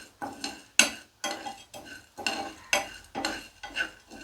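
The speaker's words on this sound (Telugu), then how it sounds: "నెయ్యి కానీ ఆయిల్ కానీ ఏమొద్దండి, ఉట్టిగానే వేయించుకుందాం." Seeds being dry-roasted in a pan without ghee or oil, heard as a close series of rhythmic metallic scrapes and clinks from a spatula stirring against the pan, with no talking.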